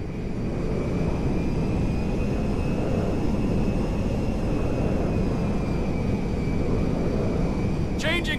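A cargo jet's engines drone steadily in the GTA V video game, a loud, continuous rumble with a high whine held throughout and a short voice at the very end.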